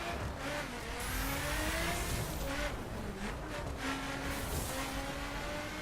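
Car engine in The Crew racing game revving and whining steadily as the car drifts across a beach, a continuous mid-pitched drone with shifting tone and no pauses.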